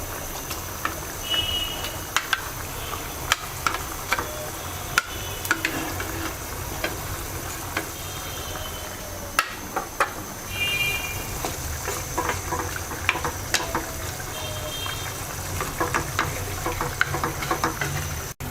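Sarpunti fish going into a boiling cauliflower and potato curry: a steady, close bubbling sizzle runs throughout, broken by scattered sharp clinks and scrapes of a spoon against the pot, with no one talking.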